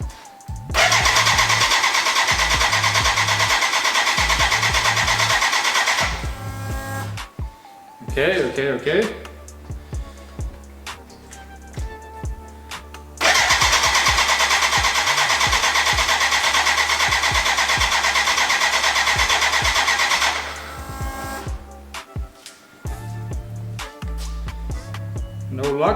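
A BMW K100 motorcycle engine cranks repeatedly on a cafe racer build, the starter churning in two long, loud bursts of roughly six seconds each, with brief sputters and someone speaking between attempts.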